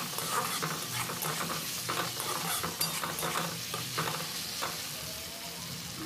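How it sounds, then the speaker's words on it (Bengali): Tomatoes and green chillies stirred into ginger-garlic frying in hot oil, a steady sizzle under repeated scraping strokes of a spoon, close and continuous with no talking. "টমেটোটা দিয়ে ভালো করে এইভাবে মিক্স করতে হবে।"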